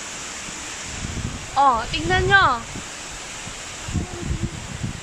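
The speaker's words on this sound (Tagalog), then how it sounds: "Super lakas ng hangin, oh." Strong winds from Typhoon Pepito roar through trees in a steady, broadband rush, with people speaking briefly over the gusts.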